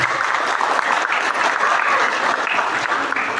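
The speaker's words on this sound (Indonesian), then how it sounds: "Kasih tepuk tangan adik-adiknya" Students fill a school hall with dense, steady applause at a graduation and alumni ceremony, a continuous even roar of clapping lasting a few seconds.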